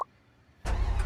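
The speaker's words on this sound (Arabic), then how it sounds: "الله شوف هاي السيارة الجديدة" In the Free Fire video game, a car engine starts suddenly after a moment of near silence, then runs with a loud, steady roar.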